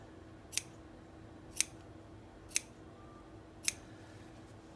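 Pinking shears snip through cotton lycra fabric in four crisp, evenly spaced cuts about a second apart, each a short bright click over a quiet background.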